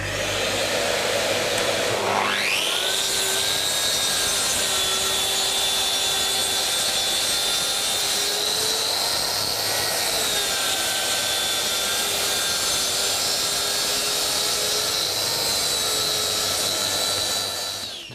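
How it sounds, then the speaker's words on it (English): A Bosch track saw cuts through thin wood, its motor whining up sharply and holding a loud, steady high-pitched cutting roar for about fifteen seconds before winding down. "The rubber underneath will hold it, and then put your saw on and make the cut."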